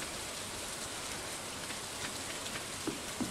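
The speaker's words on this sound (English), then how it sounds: "I really like rainy days." Steady game rain in Stardew Valley, a dense even hiss of falling drops with a few soft taps near the end, no voices.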